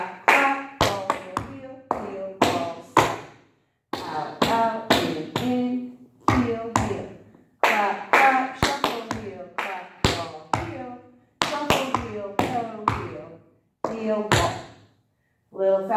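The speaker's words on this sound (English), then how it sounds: "heel, clap, clap, shuffle, heel, clap, ball, heel, shuffle, heel, toe, heel, heel, ball" A tap dancer at a tap class strikes heel, toe, ball and shuffle steps mixed with sharp hand claps in quick rhythmic clusters with brief pauses, while a voice calls out the steps throughout.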